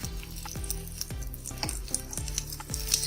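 Crispy veg tacos fry in a pan with a continuous sizzle, while soft scraping and tapping of a utensil recur at a steady rhythm.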